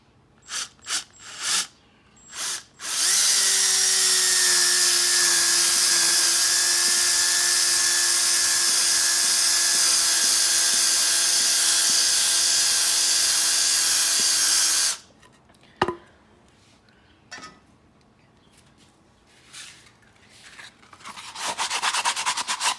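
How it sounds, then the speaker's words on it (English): A power drill runs steadily for about twelve seconds with a high, sustained whine, boring pocket holes in wood, preceded and followed by short bursts of clattering and handling noise. "use your drill bit"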